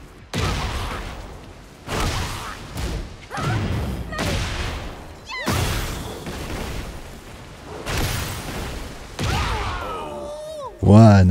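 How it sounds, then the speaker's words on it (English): Heavy impact hits and crunching blows from a Tekken 8 fighting game combo land in rapid bursts, loud and close, with game effects and character voice cries mixed in. "Wow, nice combo, Sarah."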